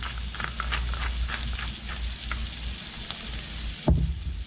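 Steak sizzles loudly and steadily in a hot pan while being seasoned with kosher salt and freshly ground black pepper, with a sharp clatter near the end.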